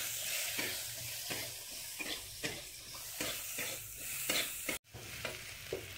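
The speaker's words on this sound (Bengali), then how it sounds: "এবার এতে একটু পরিমাণে পেঁয়াজ দেব" Onions frying in oil with black cumin seeds make a close, continuous sizzle, broken by regular scraping stirs of a spatula, with a brief pause near the end and no talk.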